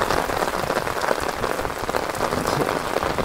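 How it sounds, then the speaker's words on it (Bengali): A heavy downpour pours outside a beachside dome, a loud, continuous wash of rain hitting surfaces nearby, unbroken and steady throughout with no one speaking. "কিন্তু মুষলধারে বৃষ্টি হচ্ছে বাইরে, মুষলধারে।"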